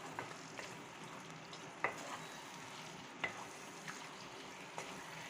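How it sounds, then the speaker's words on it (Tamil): Chicken stirred and frying in a pan while making chicken kulambu, a faint steady sizzle with a few soft scraping clicks from the spoon, heard alone without talk. "சிக்கன் சேர்த்து இப்போ நல்லா மிக்ஸ் பண்ணிக்கலாம்."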